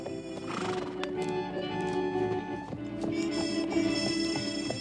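Horses ridden at full tilt across Western open country, hoofbeats blending with neighs and whinnies under a dense, continuous bed of music and action sound.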